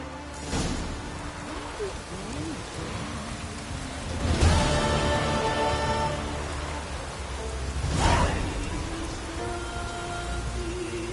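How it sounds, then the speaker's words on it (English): Steady rain pours down in a PS4 video game, a continuous hiss with three sharp cracks of thunder at intervals, with faint game talk underneath. "Raining again."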